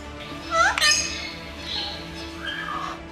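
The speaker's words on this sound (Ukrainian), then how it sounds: "До затишної оази на зиму переселили усіх теплолюбивих пернатих ібісів, косарів, лелек, журавлів та папужок." Warmth-loving zoo birds such as ibises, spoonbills, storks, cranes and small parrots in an indoor winter enclosure, giving sharp squawks and rising calls, one loud burst then softer cries over a low background hum.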